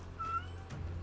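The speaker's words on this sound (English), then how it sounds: "Meow." A cat meows once from a Metaphor: ReFantazio video game scene, a short, thin mewing cry heard softly over a low steady hum.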